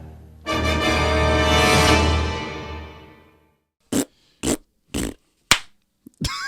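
A voice imitates a fart in a Batman animated series scene: one long, buzzing, wet raspberry lasting about three seconds, then a rapid run of four or five short, sharp blasts, loud and close with no talking over them.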